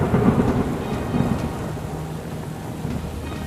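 A thunderstorm roars with heavy rain and deep, rolling thunder, loudest at the start, then settling into a steady downpour.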